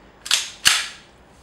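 Two sharp airsoft gun shots powered by green gas, fired through a stock Marui hop-up. The cracks are about a third of a second apart, each trailing a brief hissing decay, loud and close, with no voices.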